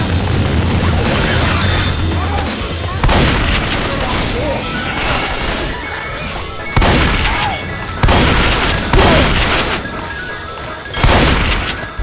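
Dense, loud gunfire and booming blasts in the zombie shooter Left 4 Dead 2, continuous rattling shots with several heavier impacts punctuating the chaos throughout.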